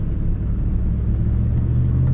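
A truck with its EGR unplugged accelerates on a test drive, a steady low engine rumble heard from inside the cab with a faint rise in pitch toward the end and no talking.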